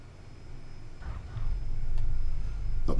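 Airplane touching down on a runway in Microsoft Flight Simulator: a low engine rumble steadily builds and grows louder, with a brief thump near the end as the wheels meet the ground. No one talks.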